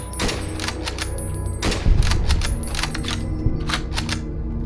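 Gunshots in the video game Fallout: New Vegas come as several sharp, loud cracks spread irregularly over a few seconds, some in quick pairs, with clicking sounds between them.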